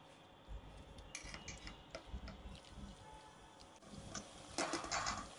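Softened pumpkin mashed with a ladle in a pan for kaddu halwa, giving soft metallic scrapes, clinks and squelchy pressing over a steady background hiss, close up with no talking.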